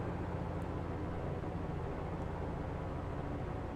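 A steady, dense engine roar from a twin-engine warbird in Microsoft Flight Simulator, unchanging and close throughout the few seconds, with no talking.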